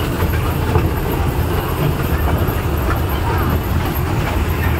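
A toy train ride at Nicco Park amusement park in Kolkata rumbles and clatters loudly and continuously up close, with wheels clacking on the track.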